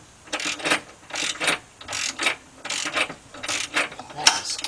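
A wrench working a fastener loose during a timing chain replacement on a GM V6, close, repeated bursts of metallic ratcheting clicks in an uneven rhythm, with brief pauses between strokes.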